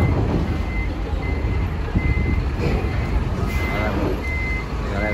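A trailer truck reverses with its repeating reversing beeps sounding at a steady rhythm over a low diesel engine rumble, with voices talking nearby.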